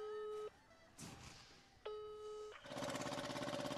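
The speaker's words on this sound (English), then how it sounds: "I think he's on a tractor." A tractor engine comes through a phone loudspeaker as a harsh, rhythmic buzzing drone in the final second, after a couple of steady electronic call tones and quiet gaps.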